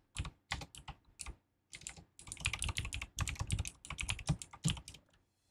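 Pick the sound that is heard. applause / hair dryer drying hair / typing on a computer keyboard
typing on a computer keyboard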